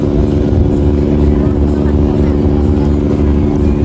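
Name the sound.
small boat engine departing harbour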